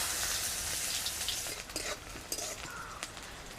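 Chopped onions frying in oil with whole garam masala, a dense sizzle that eases slightly as stirring scrapes and taps rise against the pan.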